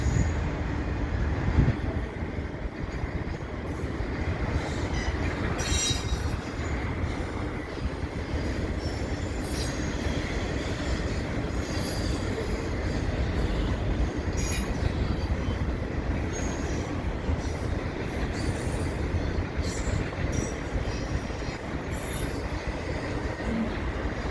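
A long CP freight train with stacked cars rolls past below a bridge with a steady rumble, rattling cars and occasional squealing wheels, continuous throughout.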